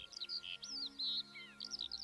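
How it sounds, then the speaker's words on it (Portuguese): A Eurasian skylark sings over a mountain landscape in the Serra da Aboboreira, pouring out a rapid, continuous string of high chirps and trills, fairly faint and distant, with no voices. "A melodia da paisagem, nesta altura do ano, é dirigida pela laverca."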